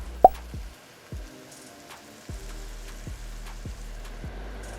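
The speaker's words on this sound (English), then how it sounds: "And now we add the salsa." Salsa poured into a pot of simmering picadillo with potatoes, carrot and ground beef, giving a few soft wet plops at irregular intervals over a quiet bubbling background, with no talking.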